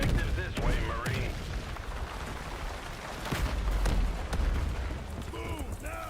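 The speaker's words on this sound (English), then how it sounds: "Incoming artillery." Artillery fire in a Battlefield video game: several heavy booming blasts, the loudest around the middle, mixed with shouted orders and radio chatter over a constant battlefield rumble.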